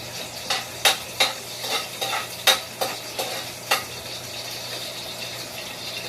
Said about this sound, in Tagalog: Magigisa tayo guys ng luya